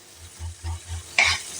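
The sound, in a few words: stirring chopped tomato mixture in a pan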